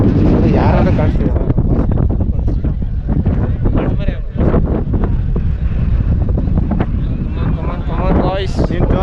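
Strong wind on the Nandi Hills hilltop buffets the microphone in loud rumbling gusts, with people talking through it across the whole stretch.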